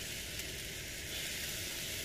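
Food sizzles in a small, crowded frying pan during dinner cooking in a van, a steady, close hiss that runs unbroken for the whole stretch.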